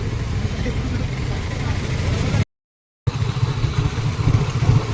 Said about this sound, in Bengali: বিশাল জ্যাম, বললাম মায়ের মেলার জন্য বিশাল জ্যাম।